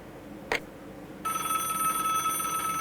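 Telephone in the point-and-click adventure game Broken Sword: Shadow of the Templars, a short sharp ring followed by a steady electronic tone, alone and close.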